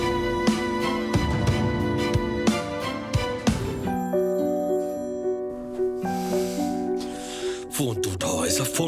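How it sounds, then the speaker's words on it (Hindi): In a Turkish drama scene dubbed into Urdu, a phone's tinkling ringtone chimes repeatedly among musical tones. The ringing is moderately loud and rhythmic, and a brief shift in the sound follows near the end. "फोन तो उठाओ ऐसा, फोन उठाओ।"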